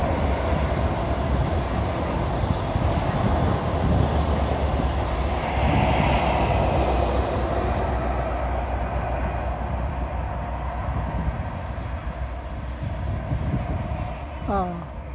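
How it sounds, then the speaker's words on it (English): A train rumbles past near Teignmouth's Back Beach in a long, steady roar that gradually fades, with a faint voice talking beneath it. "And I could get through the tunnel. And there's a train."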